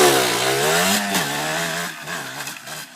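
Yamaha DTR 125 two-stroke motorcycle with low compression, its engine running loud and close with a buzzing, slightly wavering idle that dips briefly partway through.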